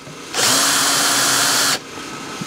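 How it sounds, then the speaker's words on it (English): A small power drill with a small bit whirs in one short, loud burst of about a second and a half, starting and stopping abruptly. "I use a real small drill bit, and you don't want to drill through it"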